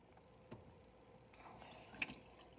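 Water poured into a hollow square pyramid model for a volume demonstration: a quiet room, then a brief splashing pour that swells for about half a second with a small clink, then settles back to near silence.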